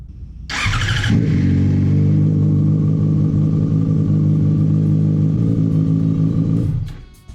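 A motorcycle engine cranks and catches, settling into a loud, steady idle before cutting off abruptly near the end.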